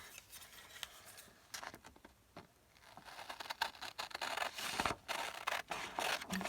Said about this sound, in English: I'm gonna use scissors.